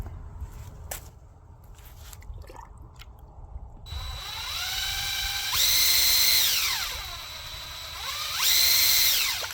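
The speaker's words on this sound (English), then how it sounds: "we're gonna see what our drill power can do with this baby" A power drill whirs up to speed twice, its pitch rising and holding in loud, steady runs after some quiet tapping and handling noises, during work on a Mercury 75 outboard motor.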